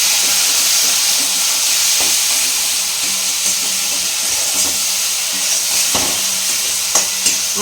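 Spice masala sizzles and fries loudly in a pan for raw banana kofta, a continuous hiss with occasional scraping stirs and small pops close up, no talking.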